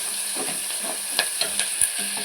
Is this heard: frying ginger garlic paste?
yes